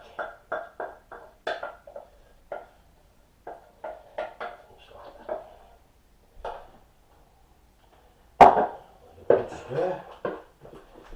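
Spoon working through gravy and steak for a steak pie filling in a pot, giving sparse, light metallic clinks and scrapes in uneven clusters, with one sharper knock near the end in a quiet kitchen.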